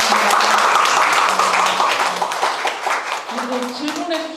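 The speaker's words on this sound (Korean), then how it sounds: "다 같이 박수 치면서 마무리하겠습니다" An audience at a Korean book fair applauds to close a book talk event: loud, dense clapping that fades slightly toward the end, with voices talking over it.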